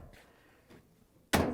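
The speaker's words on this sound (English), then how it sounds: "close the door." The front panel door of a Samsung gas dryer is shut with a single solid thunk after a couple of soft handling noises.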